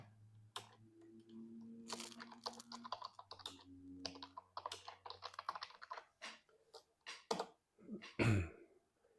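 Keys clack in quick irregular bursts on a computer keyboard, close and fairly quiet, with a few louder taps and a brief sharper knock near the end.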